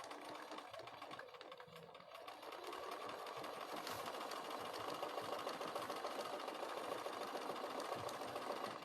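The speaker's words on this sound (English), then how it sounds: "and start sewing" Sewing machine running continuously while stitching binding, a steady rapid mechanical whir with fine stitch ticks, close and fairly quiet, no talk.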